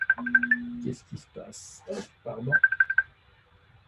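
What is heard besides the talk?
mobile phone ringing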